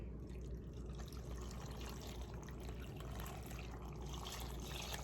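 Six cups of water pour steadily into a container of vegetables for homemade bread and butter refrigerator pickles, a quiet continuous trickle with no talking.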